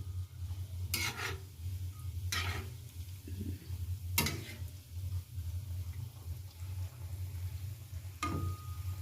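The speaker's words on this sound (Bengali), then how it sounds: "কড়াটা তো ছোটো, আমি দুটো দুটো করে ভেজে নেবো।" Vegetable chops fry two at a time in moderately hot oil in a small iron wok, a soft low sizzle broken by a few sharp scraping strokes as they are turned, with no voices.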